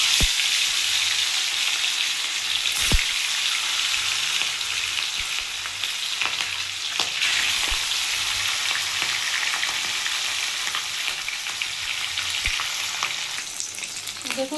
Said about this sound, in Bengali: তেলটা আমার গরম হয়ে গেছে আমি এবার মাছগুলো ভেজে নেব দেখুন